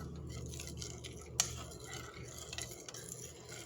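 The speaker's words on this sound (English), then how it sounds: "we're going to stir that in" A spoon stirring baking soda into batter for an 1830s recipe, a soft, faint scraping and swishing against the bowl with one brighter clink partway through, close and quiet with no talking.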